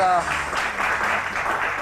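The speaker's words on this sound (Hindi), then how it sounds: "फहीम बर्नी के लिए आई थिंक बहुत सारी बाकी तालियां होनी चाहिए फहीम बर्नी के लिए" An audience at a celebrity interview event applauds Faheem Burney with steady, dense clapping that runs evenly throughout, starting just after a brief voice at the opening.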